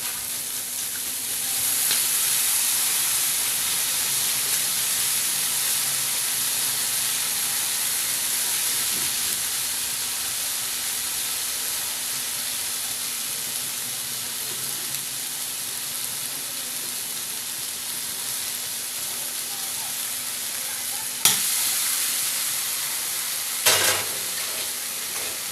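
Masala with grated tomato sizzles and fries steadily in a pan for a Bengali-style Chinese curry, a continuous close hiss with occasional stirring knocks near the end and no talking.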